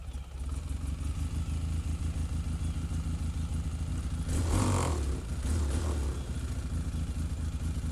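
Polaris Sportsman 600 ATV engine idles with an uneven, rough running note, steady throughout with a brief swell in revs near the middle, heard close by with no talking.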